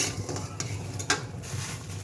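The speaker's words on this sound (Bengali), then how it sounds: "এখন এই যে কুমড়া বড়িগুলো ভেজে নেওয়া লাগবে।" Kumra bori, dumplings made from black gram and pumpkin, fry in a pan with a continuous close sizzle, broken by a few soft stirring scrapes and light clicks.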